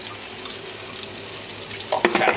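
Cooking liquid from braised short ribs is drained, pouring as a steady close splash that swells briefly louder toward the end, with no voices.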